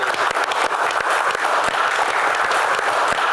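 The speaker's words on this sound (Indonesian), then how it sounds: "tepuk tangan untuk bintang tamu kita" Loud, continuous audience applause greeting the guest stars of an Indonesian talk show, a thick wash of clapping hands with a few sharper nearby claps standing out, no voices over it.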